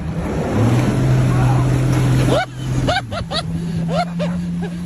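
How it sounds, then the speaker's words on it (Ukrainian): Jet skis running on a lake at the Shatsk Lakes, a steady motor drone throughout, with people's voices talking and calling over it in the second half. "А сьогодні ми на Шацьких озерах вибиралися на цих водних мотоциклетах."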